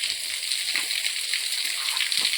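Water flowing over Budhakhol waterfall at low seasonal volume, heard as a continuous, even rushing hiss with no pauses throughout.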